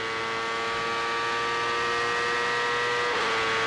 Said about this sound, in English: As we ride on board with Michael Andretti, we can hear how much better his car's running than the last time we were on board with him.